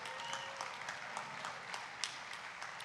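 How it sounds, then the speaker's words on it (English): An audience of farmers claps steadily, a dense, even patter of many hands with a few sharper individual claps standing out, continuous throughout. "these are all people that are clapping that love their children"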